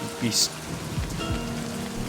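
Steady rain pours down in the video game Twisted by Madness, a constant close hiss of drops on surfaces with a few brief louder splashes.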